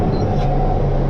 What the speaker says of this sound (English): so we've got a line of cars